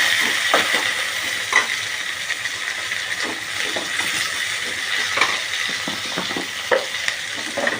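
Curry leaves and chopped large onion sautéing in a pan for sambar, with a steady close sizzle and repeated stirring scrapes throughout, no talking.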